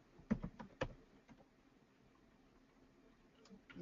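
A password is typed on a computer keyboard at a server login page: a short burst of several close key taps at the start, then near-quiet with a couple of faint clicks later.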